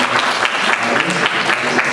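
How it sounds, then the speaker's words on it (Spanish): Audience applause after a religious debate on the Trinity, a dense steady roll of clapping lasting throughout with some voices mixed in. "Vamos a darle un fuerte aplauso al señor."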